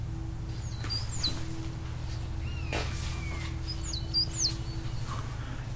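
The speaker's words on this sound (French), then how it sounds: "Le temps est magnifique et les oiseaux chantent, cachés dans les grands arbres des environs." Birds sing and chirp from hidden perches in tall trees, scattered short whistles and sweeping calls at moderate distance over a steady low hum, with no talking.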